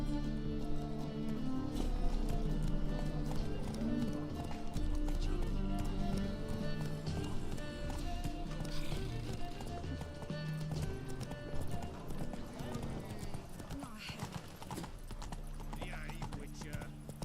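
Roach the horse's hooves clip-clopping in The Witcher 3, a steady, close rhythm of hoofbeats that continues throughout over sustained tonal game music.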